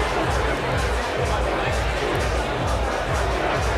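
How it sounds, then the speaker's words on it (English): Spectators at the Gravity Bowl bouldering competition in Cape Town make a steady, dense crowd noise of cheering and chatter. It holds evenly throughout, with babbling voices mixed in. "Jack thrives under the noise of the crowd, the cheers."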